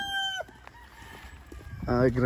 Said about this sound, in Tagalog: Ito yung mga tipi natin. Ang manok.